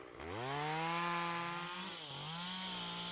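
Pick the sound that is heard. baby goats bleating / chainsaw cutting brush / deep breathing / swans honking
chainsaw cutting brush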